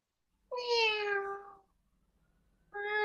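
A domestic cat meows twice, up close and clear: a long falling meow followed after a pause by the start of another, with no talk.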